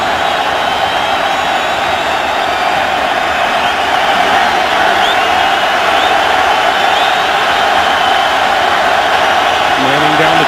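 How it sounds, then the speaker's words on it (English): A football stadium crowd boos during an NFL game between the Colts and the Texans, a loud sustained roar that fills the whole stretch, steady and dense, with no clear talk above it. "I love the way the crowd starts booing"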